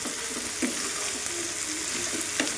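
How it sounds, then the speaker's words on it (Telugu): Raw banana pieces fry in a pan, giving a steady, even sizzle of hot oil with a few soft scrapes of stirring, close by and with no talk. "ముక్కలు అనేది బాగా ఫ్రై అవ్వాలి."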